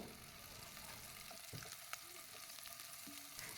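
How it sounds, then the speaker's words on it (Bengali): Onions and chilies frying in a pan and being stirred, giving a steady close sizzle with occasional soft scrapes and clinks of the utensil, with no speech. "পেঁয়াজ এবং মরিচকে কিছুটা নাড়াচাড়া করে ভেজে নিচ্ছি"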